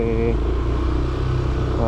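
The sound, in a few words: Yamaha Aerox scooter engine running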